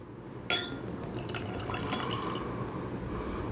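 Jack Daniels Sinatra whiskey poured into a glass, a close liquid fill that starts suddenly and runs steadily for a few seconds with a faint clink near the start.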